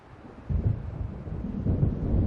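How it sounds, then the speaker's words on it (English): Low rolling thunder of an approaching storm in the video game Alan Wake, a deep rumble that swells after a quiet start and keeps grumbling steadily to the end. "It seems there's a storm coming."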